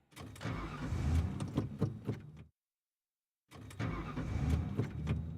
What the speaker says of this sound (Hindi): ये गाड़ी क्यों नहीं स्टार्ट हो रही है?